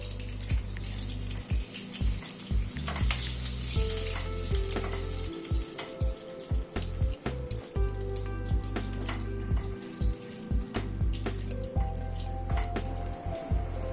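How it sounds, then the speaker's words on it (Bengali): Torn bay leaf and about ten black peppercorns crackle in hot oil for tempering over a lowered gas flame, a steady close sizzle with scattered sharp pops and ticks. "ফোড়নটাকে একটুখানি ক্র্যাক করিয়ে নিচ্ছি, গ্যাসের ফ্লেমটাকে কম করে"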